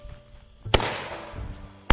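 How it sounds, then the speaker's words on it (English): Elite Fireworks Loco H-Town Madness 200 gram consumer cake fires two sharp, loud launch thumps about a second apart, each followed by a crackling, hissing trail that fades between shots. "here goes the Loco H-Town Madness 200 gram cake by Elite Fireworks"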